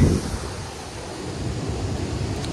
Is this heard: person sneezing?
no